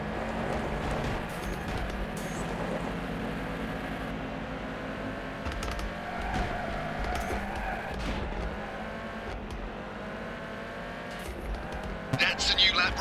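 A Metro 6R4 rally car racing in a rallycross video game, with a steady engine drone, tire noise and occasional scuffs and bumps, a voice commenting over it.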